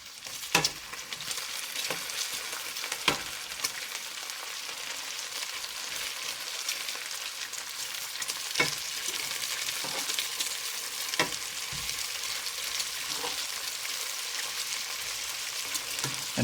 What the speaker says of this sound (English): Give this bacon a flip.